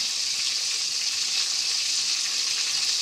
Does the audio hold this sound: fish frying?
yes